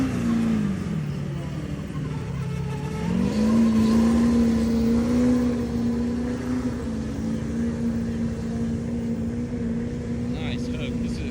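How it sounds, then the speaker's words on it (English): A heavy tractor engine drones loudly and steadily while pulling a sled at a sled pull, its pitch climbing and holding under strain, with crowd chatter mixed in throughout. "This is his first hook."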